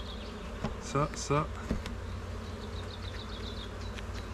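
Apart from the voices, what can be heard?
bees buzzing, virgin queen bee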